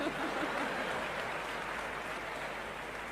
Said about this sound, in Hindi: मुझे पता था आप बिना बताए तालियां बजाएंगे